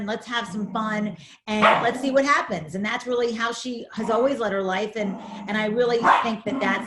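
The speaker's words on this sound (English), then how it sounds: "I'm sorry about my dog." A pet dog barks in short bursts during an indoor interview, mostly under a woman's steady, continuous speech.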